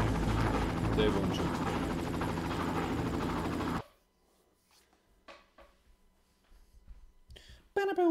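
Helicopter in the video game Far Cry, a loud steady rotor roar for about four seconds that cuts off abruptly, followed by near silence with scattered small clicks and a brief voice at the end.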